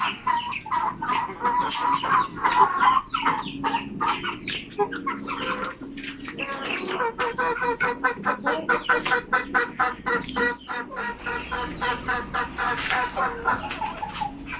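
A flock of native chickens clucks continuously in rapid, overlapping bursts, close and fairly loud, with no one talking.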